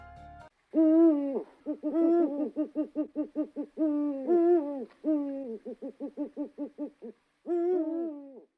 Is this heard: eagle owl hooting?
yes